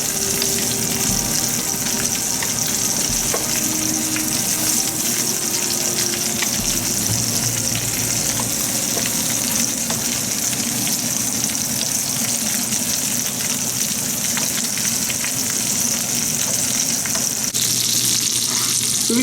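Duck frying in a pan with stock added, a loud continuous close sizzle and crackle running steadily throughout, with faint clinks of stirring.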